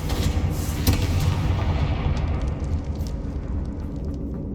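A fire-blast spell explosion in Hogwarts Legacy, heard as a loud, dense boom with a rumbling low roar that fades slowly over a few seconds.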